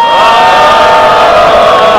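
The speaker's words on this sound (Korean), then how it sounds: "발언해주신 김성민님에게 감사와 지지의 박수 부탁드리겠습니다." Crowd at a citizens' candlelight rally in Incheon cheers and applauds, a dense continuous roar of voices and clapping that stays loud throughout the short moment.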